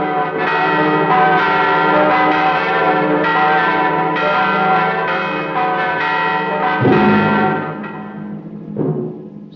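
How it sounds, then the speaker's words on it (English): Church bells ring in a full, sustained peal, with overlapping resonant strikes and long ringing tones that build, then fade near the end, with no voices. "Now is the time to ring the bell."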